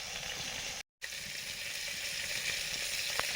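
Oil heating in a pan for cooking Malabar spinach seeds with shrimp gives a steady, soft sizzle throughout, briefly cut by a moment of silence, with no one talking.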